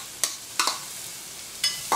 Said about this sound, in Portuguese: Deixa eu dar uma dourada nessa cebola